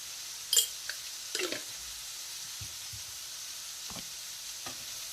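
A spoon stirs spiced liver stew in a pan over a faint sizzle, giving a few quiet scrapes and knocks spaced out against a low background hiss.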